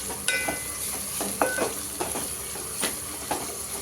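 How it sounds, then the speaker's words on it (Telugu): Turmeric and ginger-garlic paste fry with onions in a pan for chole masala, giving a steady close sizzle broken by intermittent stirring scrapes and light clinks of a spoon, with no voices. "ఒక 1/2 స్పూన్ పసుపు, ఒక 1/2 స్పూన్ అల్లం వెల్లుల్లి పేస్ట్ వేసేసుకొని మొత్తం అల్లం మంచిగా నీట్గా కలిసే వరకు, స్మెల్ పోయే వరకు కొంచెం ఫ్రై చేసుకుందాం."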